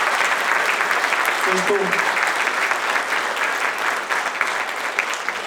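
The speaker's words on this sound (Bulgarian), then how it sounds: "Моля аплодисменти за всички вас, които сте тук на малкия екран." Loud, dense applause from an audience at the Творец на годината 2025 awards ceremony, continuous clapping filling the whole stretch with a brief word spoken over it.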